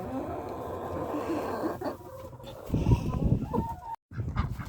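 Chickens cluck and squawk close by in a noisy coop while their eggs are collected, with busy overlapping calls that swell louder midway before a brief pause.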